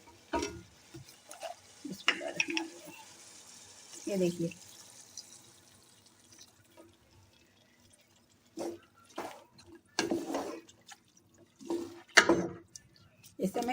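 About one and a half glasses of water are poured into a pot of simmering beef stew, giving intermittent splashes and trickles close by, mixed with someone speaking.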